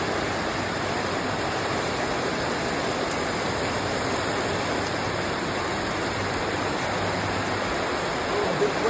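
Steady rain falling outdoors, a dense, even wash of noise that holds at a constant level throughout with no clear breaks.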